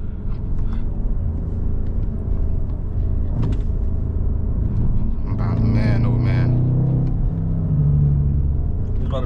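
A modified BMW M550i drives along hilly back roads, its engine a loud, steady low rumble that swells into a deeper, rising drone partway through, with voices talking inside the car.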